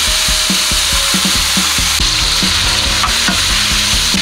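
Thin-sliced fatty beef brisket sizzles loudly in a preheated pan over medium heat, a constant close hiss broken by quick, rhythmic scraping taps of a utensil moving the meat.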